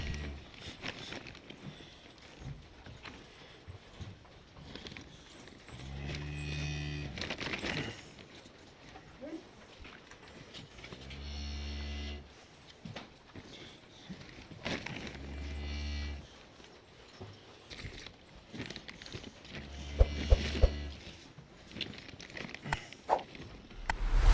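Cattle on a village farm let out several loud, close moos in separate bursts, with some footsteps and light clatter between calls and no talking.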